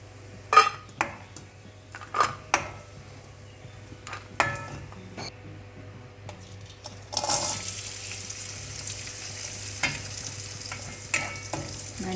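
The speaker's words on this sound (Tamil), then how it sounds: "இந்த முந்திரி பருப்பும் திராட்சை பழமும் வறுத்துக்கலாம்" Cashews and raisins roasting in ghee in a pan, with a steady soft sizzle, occasional stirring scrapes and spoon clinks against the pan, frying louder in the later part.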